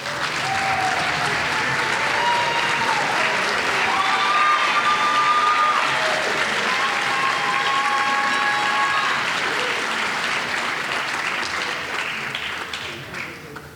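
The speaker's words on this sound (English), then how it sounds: "give you a round of applause" A large crowd at the Fordham Gabelli School of Business undergraduate award ceremony at Rose Hill applauds for mentors standing up, in a full, sustained roar of clapping that runs for many seconds before easing off at the end.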